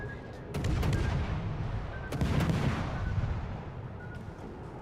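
Warship guns firing in World of Warships: Legends, heard as a few heavy, booming salvos spaced a second or more apart over a constant low sea and engine rumble, fairly distant and moderately loud.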